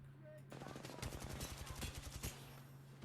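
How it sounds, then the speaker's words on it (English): Rapid bursts of gunfire from a first-person shooter video game in a 1v3 round, shots fired in quick succession for a few seconds, loud and close, with a steady background hum. "here I'm missing some shots."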